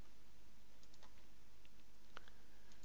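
Soft, sparse clicks of typing on a computer keyboard, faint and close under a steady background hum.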